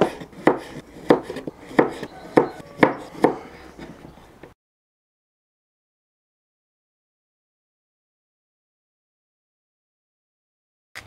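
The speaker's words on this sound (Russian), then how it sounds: "Все овощи нарезаем крупно." Knife coarsely chopping pepper, cucumber and tomato on a board for a picnic salad: about eight sharp, evenly spaced chops, then abrupt silence.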